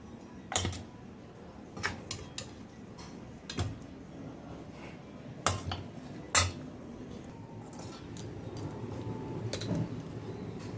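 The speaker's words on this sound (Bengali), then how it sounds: "বাসনের শব্দ, খুন্তির শব্দ, কড়াই থেকে চেঁচে নেওয়া ঝোলের শব্দ" A spatula clatters and scrapes gravy from a kadai in a home kitchen, sharp metallic clinks of utensils at irregular intervals over a low background rumble.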